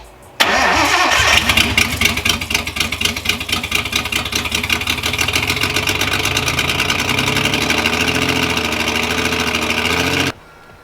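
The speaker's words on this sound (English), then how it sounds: "I'm gonna go ahead and crank the car to let it idle" A Nissan Skyline R32 engine cranks and catches abruptly, then settles into a loud, rough, pulsing idle that runs steadily close by before cutting off near the end.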